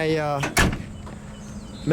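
The trunk lid of a black 1968 Ford Torino GT Fastback closes with a single solid thump, close and loud, following a voice and trailing into quiet.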